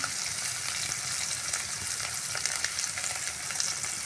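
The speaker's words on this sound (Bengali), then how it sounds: "হলুদ দিয়ে এর মধ্যে আমি সিদ্ধ করে কেটে রাখা আলুটা ফ্রাই করে নিচ্ছি" Boiled, cut potatoes with turmeric fry in hot oil, giving a steady, close hiss and crackle that runs unbroken throughout with no voices.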